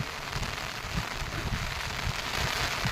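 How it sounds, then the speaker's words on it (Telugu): Heavy rain pours steadily over a flooded paddy field, a dense, loud, continuous hiss of drops beating on water with no pauses. "ఫుల్ వర్షం వర్షానికి అయితే మొత్తం మునిగిపోయింది"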